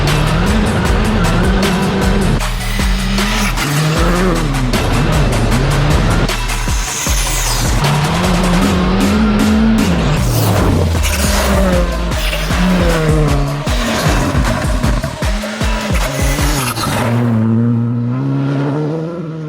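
A Skoda Fabia rally car runs flat out on snowy, icy, slightly gravelly stages in Finland. The engine revs hard and loud, rising and falling with gear changes, and tires squeal and skid before it fades at the end.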